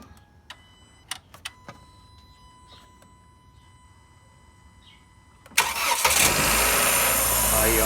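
A Jeep Renegade engine cranks and catches on the first try around five and a half seconds in, then settles into a loud steady idle, after a stretch of quiet clicks and faint ticking near the open bonnet.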